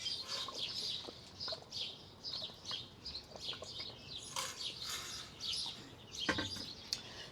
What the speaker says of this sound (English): You can listen to the birds chirping while I take a drink.